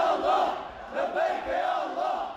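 Crowds fill the streets of Damascus, celebrating the fall of Bashar al-Assad, with many voices rising and falling together in a rhythmic chant.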